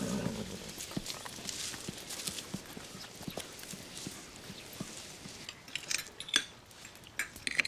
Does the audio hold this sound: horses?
yes